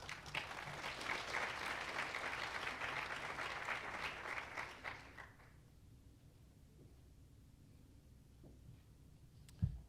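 Conference audience applauding to welcome a speaker onto the stage at a luxury goods event, a full burst of clapping that fades out after about five seconds to quiet room tone.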